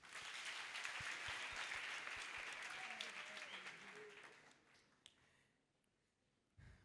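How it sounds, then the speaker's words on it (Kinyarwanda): Sustained applause from a church congregation fills the room, loud at first and gradually thinning out, with a lone voice briefly audible near the end. "muri komera amashyi"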